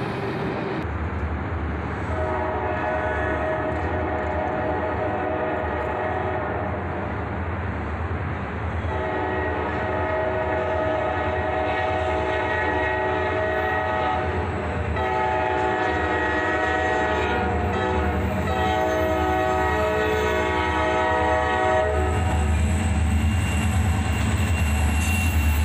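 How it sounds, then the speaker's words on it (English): Northbound CSX manifest freight train led by a pair of old EMD SD42 locomotives, the leader ex-Conrail, rumbling past steadily with loud sustained horn blasts sounding over the continuous engine and wheel roar. "Dual EMD locomotives lead this manifest train."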